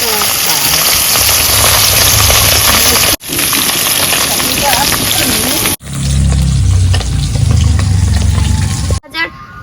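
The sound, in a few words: katla fish frying in oil after flipping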